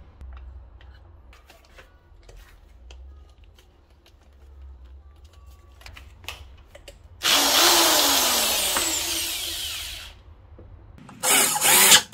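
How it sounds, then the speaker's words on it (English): Faint clicks and taps, then a power drill with a carbon steel hole saw whines loudly for about three seconds as it cuts through material, followed by a short final burst. "So now I'm going to drill a hole here."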